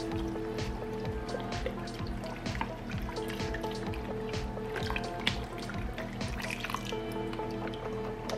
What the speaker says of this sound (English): And then I'm going to add a quart of beef broth.